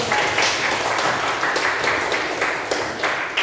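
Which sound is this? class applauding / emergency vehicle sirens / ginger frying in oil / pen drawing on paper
class applauding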